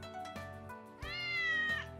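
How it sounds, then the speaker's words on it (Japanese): Cat meows played from a smartphone app designed to attract cats, two short meows followed by a longer, rising and falling one, clear and close. "猫が反応する鳴き声を再生してくれます。"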